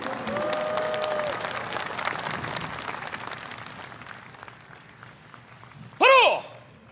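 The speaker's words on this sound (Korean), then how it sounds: "자랑스러운 합동군 태권도 시범 장병들에게 다시 한번 뜨거운 박수와 성원 부탁드립니다" Applause from a large audience at a joint armed forces taekwondo demonstration during a Korean Armed Forces Day ceremony fades over several seconds, followed by a short loud shout from a voice.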